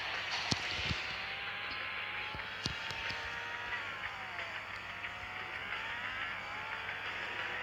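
A car engine in a video game drones steadily as it drives, its tone rising and sliding through gear changes, with a few faint clicks and a constant low hum underneath.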